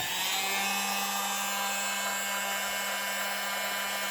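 A steady, loud whir of a blower runs without a break, drying acrylic pour paint mixed with Floetrol; a constant hum sits under a broad airy hiss.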